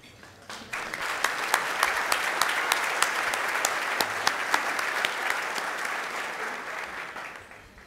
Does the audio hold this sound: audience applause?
yes